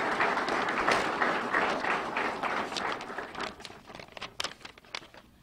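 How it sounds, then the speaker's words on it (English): A news-conference crowd applauds a departing university athletic director, a dense wash of clapping that gradually thins into scattered individual claps near the end. "Maybe you guys can give him another round of applause for a decade of leadership of Aggie Athletics."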